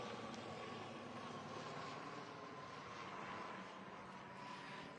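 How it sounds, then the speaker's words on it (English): Aircraft engine drone from a helicopter passing overhead during an outdoor graduation ceremony, a steady broadband rumble holding level throughout at moderate distance with no speech over it. "We're going to give this helicopter a second."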